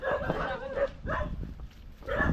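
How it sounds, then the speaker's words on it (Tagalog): A dog near a house by the water gives a few close barks and yips, with some whimpering, in short bursts separated by brief pauses. "Ang aso kakatakot."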